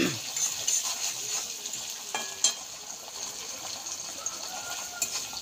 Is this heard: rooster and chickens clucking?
no